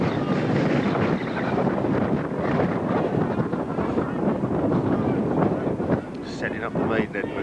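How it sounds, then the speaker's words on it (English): Strong wind buffeting a camera microphone at an outdoor rugby match, a loud continuous rumbling roar of gusts that masks most other sound, with faint voices. "The wind's so strong it's blowing the camera out of focus."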